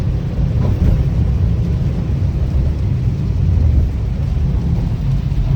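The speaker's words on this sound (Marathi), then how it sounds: "परत वाढला पाऊस" Dense, constant roar of heavy rain, broad and loud throughout, with no pauses or voices.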